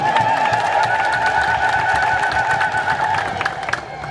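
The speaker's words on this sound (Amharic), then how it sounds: "እኔ አጨብጭቡ ብያለሁ፣" A church congregation claps during a sermon, with a crowd sound of hands and voices under a steady tonal hum from the sound system, fading slightly near the end.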